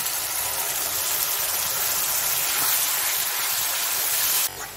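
Ginger, garlic, tomato and green chili fry in a pan with browned onion, giving a steady, loud broadband sizzle and hiss that continues unbroken before dropping off sharply near the end.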